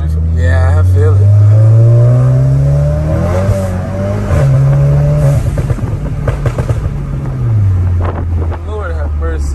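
Tuned 400 hp VW MK7 GTI engine accelerating hard, a loud rising drone heard from inside the car with heavy wind and road noise, while people talk over it.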